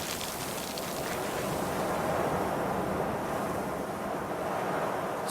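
Steady wind blowing hard and continuous, a broad roaring rush like gusts buffeting outdoors, with no voices and no distinct events over the whole stretch.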